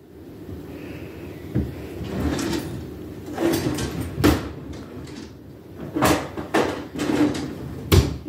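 A kitchen drawer at home slides open and shut repeatedly, with scraping runners and several sharp bumps and knocks spread across the clip, close and fairly loud with no talking.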